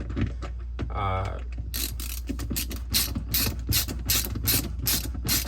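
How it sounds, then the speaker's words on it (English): A screwdriver works the screws on the shelf of a Samsung French door fridge, giving quick bursts of ratcheting clicks that come in short repeated runs, close by, after a brief faint voice at the start. "So all you need is just a basic screwdriver."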